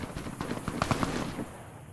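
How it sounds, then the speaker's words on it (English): Distant gunfire in Fallout New Vegas, a rattle of several quick shots clustered near the middle of a roughly two-second stretch, fairly faint against a steady background. "Where's that shooting coming from?"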